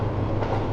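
A speeding train rushes past as a sound effect in a spoken story, a short dense rumble with rattling rail clatter, loud and close.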